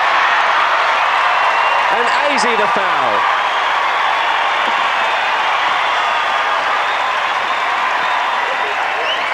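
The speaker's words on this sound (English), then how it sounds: "The crowd at the entertainment centre finds their voice." A basketball crowd at the entertainment centre, during the 1994 world championship game between Australia and the USA, sends up a continuous loud roar of cheering and applause with a whistle, as a commentator speaks over it.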